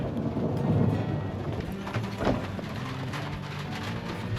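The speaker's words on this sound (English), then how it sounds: "This is a rain and thunderstorm." Rain patters steadily on a Toyota Tacoma Trailhunter's aluminum truck cap, with low rumbling swells that suggest distant thunder, a soft, continuous storm wash with no voices.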